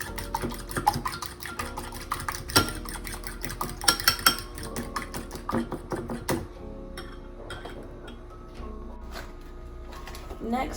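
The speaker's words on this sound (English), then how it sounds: "whisk with your fork" Fork whisking eggs in a bowl while scrambling them: quick, light metallic clicks and taps against the bowl, clustered in irregular bursts, then fading to quiet.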